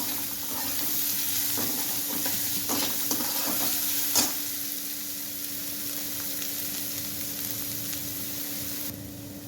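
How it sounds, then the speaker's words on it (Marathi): Chopped onion and curry leaves fry in hot oil with a steady, close sizzle, broken by a few brief scrapes and clinks of stirring and one sharper knock partway through, with no voices. "आणि आता तेल तापलं की पहिल्यांदा कढीपत्त्याची पानं आणि त्यानंतर हा चिरलेला कांदा छान लालसर होईपर्यंत कांदा परतून घ्यायचा."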